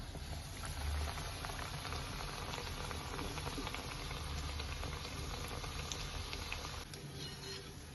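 Bread pakoras frying in hot oil, a dense, continuous bubbling and crackle heard up close, steady and unbroken for the whole stretch.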